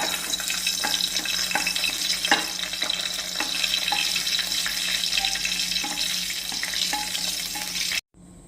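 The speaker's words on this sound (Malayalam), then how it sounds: "ഇത് ഞാൻ കൊണ്ടാട്ടം മുളകാണ്, അത് 2-3 ഇട്ട് കൊടുത്ത് ഒന്ന് വറുത്തെടുക്കാം" Sun-dried kondattam chillies fry in hot oil, giving a steady, busy crackling sizzle up close with scattered sharp pops, continuing for about eight seconds before cutting off abruptly.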